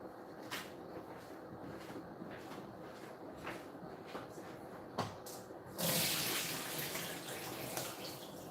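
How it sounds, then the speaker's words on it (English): Water pours out of a pot of soaked India Gate basmati rice as it drains in a kitchen, starting with a few light drips and taps, then a sudden steady rushing gush near the end. "I'm just going to drain this."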